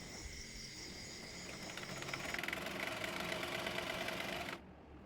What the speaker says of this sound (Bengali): কলি সেলাই করে নেব।